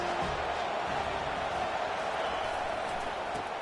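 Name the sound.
stadium crowd noise at USC vs Michigan football game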